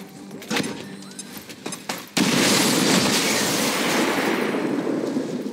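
Explosion in a modded Star Wars-themed XCOM game: a few sharp blaster-like shots, then a sudden loud blast that swells into a sustained roaring, crackling rumble of flames and debris.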